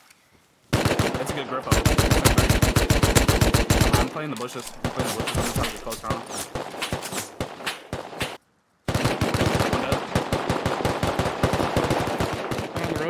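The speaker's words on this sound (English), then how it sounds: "You're shooting at me." Sustained automatic gunfire in the video game Rust, loud, close bursts of rapid shots running almost continuously with a brief gap, while a player talks over it.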